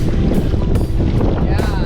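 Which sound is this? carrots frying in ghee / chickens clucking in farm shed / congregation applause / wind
wind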